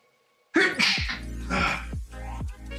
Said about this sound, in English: Oh gosh, I gotta sneeze again.